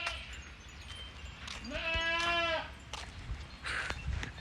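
A goat bleats once, a long wavering cry near the middle, heard close by on a rural farm amid faint background noise and scattered clatter.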